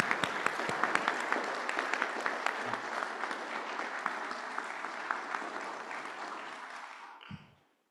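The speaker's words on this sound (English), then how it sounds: "Please give him a big round of applause." A crowd applauds the incoming University of Arizona president at a press conference, a steady roomful of clapping with sharp individual claps standing out, slowly thinning and then stopping abruptly near the end.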